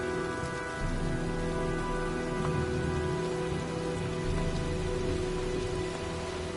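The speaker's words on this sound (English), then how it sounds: "looks like a storm's coming" Steady rain patters on surfaces throughout a stormy scene in the video game Heavy Rain, a dense continuous hiss with a faint low rumble beneath.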